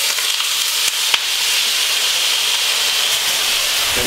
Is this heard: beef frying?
yes